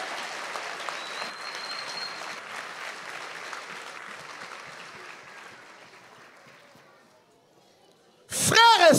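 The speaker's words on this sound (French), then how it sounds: "Let's clap for the Lord now." A church congregation bursts into loud, sustained clapping for the Lord after a quieter stretch of preaching, with the speaker's voice heard beforehand.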